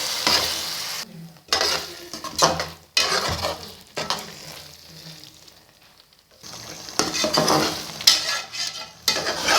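Chana dal and keema stirred and frying in a pan, with steady sizzling and repeated scraping strokes of a spoon in bursts, a brief quieter pause midway, close and fairly loud with no talking.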